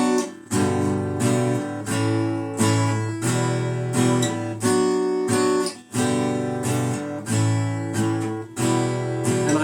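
Acoustic guitar strumming a four-chord pattern in a steady rhythm, close and clear with regular chord changes and no voice over it.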